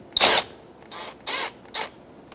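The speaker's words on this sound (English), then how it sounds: "Using an 8mm socket, loosen the hose clamp." Ratchet turning an 8mm socket to loosen a hose clamp on a 2010-2014 Subaru Outback 2.5L H4 engine, heard close as one sharp click followed by three short clicking ratchet strokes.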